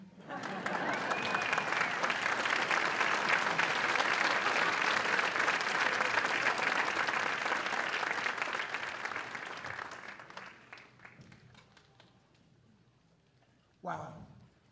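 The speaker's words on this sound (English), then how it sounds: "Did someone tell you to stop clapping?" Loud, dense clapping from a concert audience after a Christmas band performance, sustained for several seconds before thinning out and fading to scattered claps, with a brief burst near the end.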